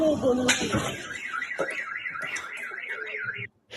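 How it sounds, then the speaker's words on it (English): A car alarm wails in a rapid rising-and-falling siren pattern, somewhat distant, with voices and a few bangs at the start before it cuts off. "Did you hear the car alarm?"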